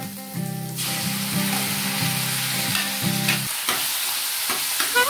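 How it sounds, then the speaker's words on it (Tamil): Steady, loud sizzling of tomatoes frying in a pan for chutney, with occasional stirring scrapes and no talking. "நல்லா வதங்கட்டும். இன்னும் நல்லா வதங்கணும்."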